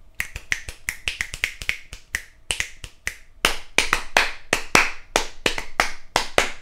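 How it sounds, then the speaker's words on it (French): Finger snapping, a rapid irregular series of sharp crisp snaps, close and loud, growing stronger and denser toward the end with no talk. "si je commence à claquer des doigts"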